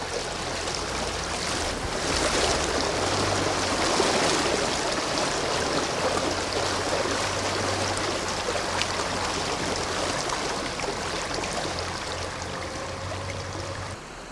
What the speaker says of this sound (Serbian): Voda još uvek nadolazi iz korita reke Lugomir i nadolaziće u selo Končarevo i Rakitovo